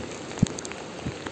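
Heavy rain pours during a monsoon downpour on Independence Day, swelling local rivers and streams. It comes through as a faint, steady hiss with a couple of soft low thumps, and no voices are heard.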